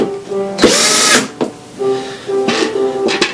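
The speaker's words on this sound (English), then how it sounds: "Less torsion on the screwdriver so we don't strip." Power screwdriver driving screws into a Roland A-90 keyboard: short whirring motor bursts that rise and stop, repeated several times close by with brief pauses, no talking.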